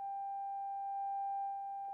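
A modular synth triangle wave, filtered until it is almost a sine wave, holds one steady pure tone at moderate level with only a faint overtone, unchanging for two seconds.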